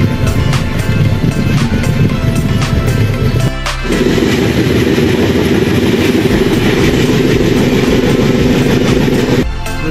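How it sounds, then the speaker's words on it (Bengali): A Kamrup Express train on the Howrah–Dibrugarh route runs steadily on its rails with a continuous rumble and rhythmic clatter, loud and close throughout, with a brief dip partway through. "হাওড়া ডিব্রুগড় কামরূপ এক্সপ্রেস 105 কিলোমিটার পথ অতিক্রম করলো"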